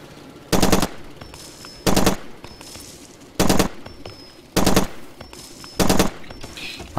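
Automatic weapon fire in Far Cry 2, five loud, close bursts of rapid shots spaced about every 1.3 seconds, each lasting under half a second, with quieter game ambience and faint tones between them.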